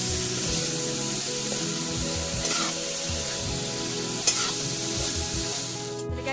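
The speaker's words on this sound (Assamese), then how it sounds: "মাংসখিনি অলপ ফ্ৰাই হোৱালৈকে ভালকৈ ভাজি ল'ম।" Duck meat sizzles and fries in a hot pan while being stirred, steady loud crackle with repeated scraping strokes of the spatula, close up and alone with no talk.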